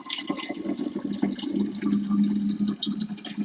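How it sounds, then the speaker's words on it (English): Water is poured from a container into a soda maker bottle at a sink, a close, continuous gurgling trickle that varies in strength over a few seconds. "I'm going to pour some of this into the bottle here"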